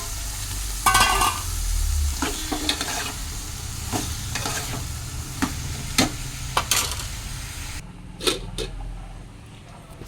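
Dried fish and cucumber curry simmers in a pan with a steady soft sizzle, broken by a few sharp scrapes and clinks of stirring close by before the cooking noise quietens.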